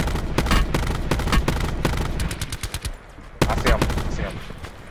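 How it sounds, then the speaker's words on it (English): Gunfire in Call of Duty Blackout: loud, rapid bursts of close shots crack in quick succession, with a short lull before another heavy volley. "Right here on southeast, I hear shots."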